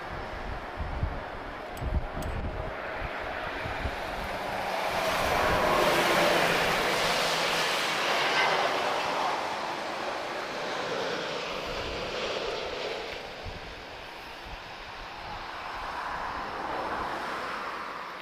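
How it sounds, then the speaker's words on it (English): A TAP Air Portugal Airbus A330 arriving from San Francisco passes at Lisbon Airport, a broad jet engine roar that swells to a peak and slowly fades, heard from a distance under light outdoor background noise. "A330 from San Francisco"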